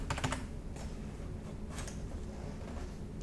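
A password is typed on a computer keyboard in a fast burst of close, crisp key clicks, then a pause and a few more scattered taps, with no voices.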